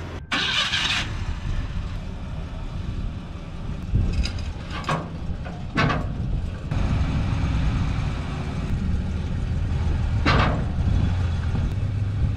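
A Chevy S10 pickup's engine runs at a steady idle after carburetor work, a close, even rumble with a few brief mechanical clicks and rattles over it.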